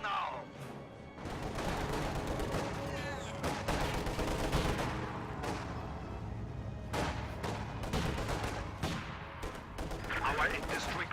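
Autocannon and other gunfire crackle through a real-time strategy battle: dense, rapid bursts of shots and impacts, fairly loud and continuous, with some speech partly under the fire.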